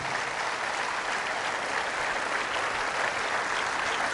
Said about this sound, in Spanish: Fuertes aplausos a la palabra de Dios.